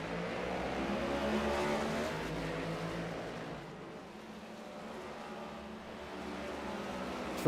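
Race cars in a stock car series at the Circuit of the Americas (COTA) rush by on track, a steady engine roar that swells and eases with no talk over it.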